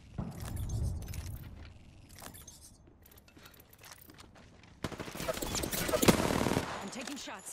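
Gunfire from Apex Legends rattles in close, rapid bursts, with a quieter stretch of clicks and movement before a sustained, louder volley of automatic fire; a voice speaks briefly over the action.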